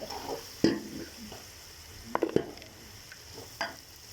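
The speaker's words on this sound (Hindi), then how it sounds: "प्याज फ्राई कर सकते" Onions frying in a pot over a low steady sizzle, with a few sharp scraping clinks of a utensil against the pot standing out now and then.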